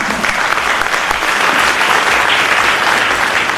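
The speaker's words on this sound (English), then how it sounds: "A round of applause for everybody, please." An audience at a low-carbon transit workshop claps loudly and steadily, a dense, sustained round of applause with no voices standing out.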